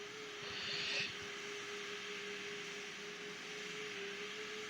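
The engines of a Boeing cargo airliner in a Roblox flight game drone steadily and faintly, an even jet hum with a slight swell early on.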